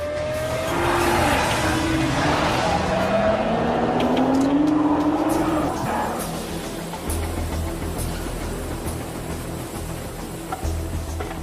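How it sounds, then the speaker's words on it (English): Nissan GT-R sports car accelerating hard, engine rising in pitch with a squeal of tires before the sound settles into a steadier, lower roar. "The driver should accelerate as one with the car."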